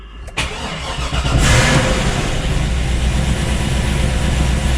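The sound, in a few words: car engine starting up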